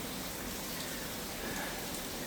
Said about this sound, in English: Holy hell, it is raining bad outside.